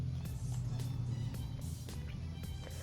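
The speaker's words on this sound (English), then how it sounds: "sorry if you can hear all the cars going down the road" Steady roar of road traffic with vehicles rumbling past one after another, a continuous low drone with occasional louder swells.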